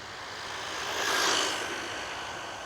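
A WLToys RC car's small electric motor on a 2S battery runs at full throttle, a faint whining whoosh that swells to a peak midway and fades as the car passes, heard from a distance without talk.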